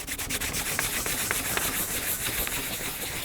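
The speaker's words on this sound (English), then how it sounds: "I'm just going to take a clean white cloth. This is just an old piece of t-shirt, and I'm just going to give this a good rub." A clean white cloth from an old t-shirt rubbed firmly over a metal surface stamped with oil-based dye, a close, continuous scrubbing rasp with quick back-and-forth strokes, no voices.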